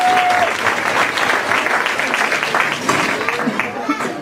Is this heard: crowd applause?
yes